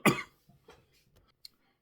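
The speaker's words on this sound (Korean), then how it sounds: "기침이 나서" A single man's cough, close and fairly loud, followed by a few faint throat sounds and small breaths in an otherwise quiet room.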